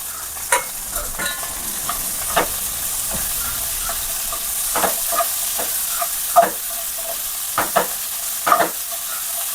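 Two large onions stirred into a hot pan with beef, a continuous sizzling hiss broken by repeated close spoon scrapes and clacks at an uneven rhythm, with no voices.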